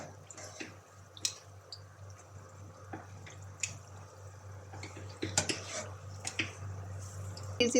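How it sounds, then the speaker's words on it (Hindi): Egg pakoras frying in oil in a pan over a medium flame, giving a steady low sizzle with scattered pops, crackles and occasional clinks of utensils, close by and moderately loud with no talking. "इसी तरह दूसरी साइड भी 2 से 3 मिनट फ्राई करेंगे।"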